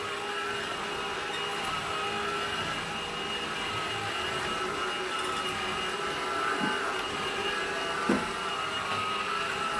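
Cordless battery vacuum cleaner with a motorized brush roll running at a steady, loud whine across the floor, with a couple of faint bumps and no speech.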